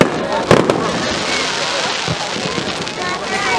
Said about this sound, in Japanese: これバラバラバラ、 これが中央の花火なんですよ